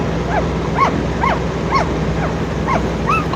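Puppies whimper and yip in a steady series of thin, high cries over a constant background hum, with no talking.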